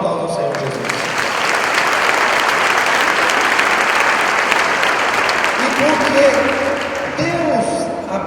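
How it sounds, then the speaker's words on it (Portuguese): Sunday church congregation giving a sustained round of applause for Jesus, thick loud clapping from many people, with a voice and music tones rising over it near the end. "Então dá um aplauso ao Senhor Jesus"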